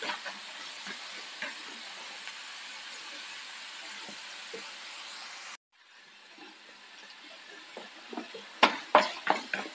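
Masala chickpeas roast in a pan over a low flame, giving a steady soft hiss for about five seconds, a brief cut, then quieter sizzling with a few sharp stirring scrapes and clinks of the spoon near the end.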